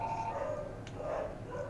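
Hound dogs bay in the background, drawn-out howling barks that rise and fall at moderate volume, with a brief click partway through.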